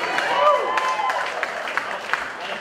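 Audience applause at an evening gathering, steady broadband clapping from a crowd with a cheer or whistle rising over it and voices mixed in throughout.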